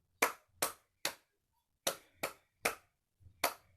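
Single hand claps pacing a guided breathing exercise in a quiet room, sharp and close, landing in groups of three with short pauses between them and no talk.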